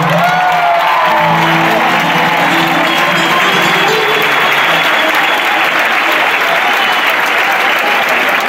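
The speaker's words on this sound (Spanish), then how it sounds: "Un fuerte aplauso." Loud sustained audience applause at a live flamenco-style show, dense clapping from a large crowd filling the space evenly, with a few cheers near the start and voices mixed in underneath.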